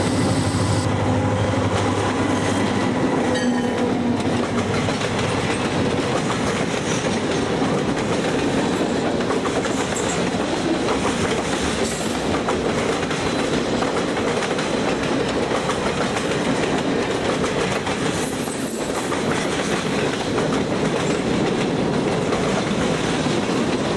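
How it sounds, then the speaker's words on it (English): Night trains rumble past continuously with steady clickety-clack of wheels on rails, a loud, close, unbroken roar lasting throughout. "we venture out after dark and watch the parade of night trains."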